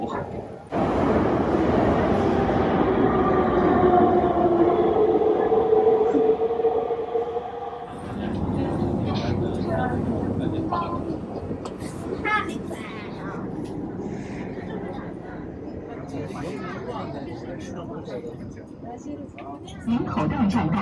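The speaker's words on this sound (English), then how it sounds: "and I'm inside the metro." A metro train in a Tianjin subway station gives a loud rumble with a rising and falling motor whine, then drops to a lower rolling noise mixed with station clatter and distant voices.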